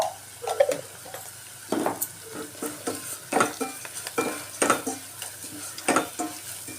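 Curry with chilli powder in a generous amount of oil is stirred and fried in a pot: repeated close spoon scrapes and clinks over a low sizzle, coming in uneven bursts.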